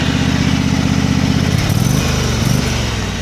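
Loud, steady, close engine roar of a Craftsman GT utility tractor held at high throttle by a foot pedal, with a slight dip and recovery partway through.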